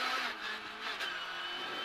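A Ford Fiesta R200 rally car on a stage of the Dukeries Rally, heard from inside as a bright, high-pitched engine whine with slight rises and dips, brief and fairly quiet, with no voices.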